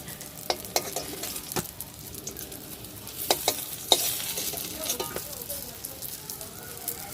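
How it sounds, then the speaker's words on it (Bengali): Eggplant fries in a little oil in a pan with a soft, low sizzle, while a spatula stirs and scrapes in several sharp, irregular clacks against the metal. "এই যে আমার বেগুনটা লাল লাল করে ভাজা হয়ে গেছে"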